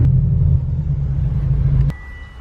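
A car rolls up to a garage with a loud, deep engine rumble close by, then the engine cuts off abruptly and leaves near silence.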